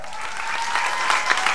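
Audience applause at a 1998 Baltic theatre festival award ceremony, a dense, steady wash of many hands clapping that swells slightly toward the end, with a few louder claps standing out.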